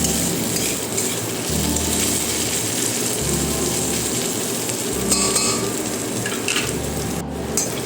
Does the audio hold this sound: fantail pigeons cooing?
no